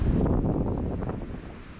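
Wind buffets a microphone on a hilltop above the water, a steady, close, low roar that holds loud for the whole stretch with no voices over it.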